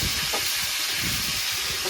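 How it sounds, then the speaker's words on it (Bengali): Potatoes fry in a hot pan with a steady, loud sizzling hiss as they are stirred, soft scraping bumps rising and falling beneath the spitting oil. "এবার আলুটাকে ভালো করে নেড়ে চেড়ে ভেজে নেব"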